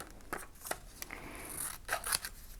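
Children's scissors snip through paper in a few quick, crisp cuts, each a short sharp crunch with brief pauses between, close and fairly quiet.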